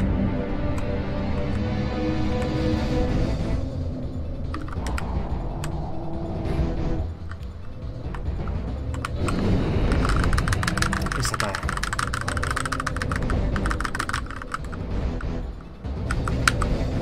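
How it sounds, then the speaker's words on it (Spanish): Computer keyboard keys struck hard during a Dino Crisis 2 speedrun, sharp clicks and taps scattered over loud game music and engine-like rumble, with talk mixed in. "Voy a apretar la E como si le estuviera dando un puñetazo al teclado"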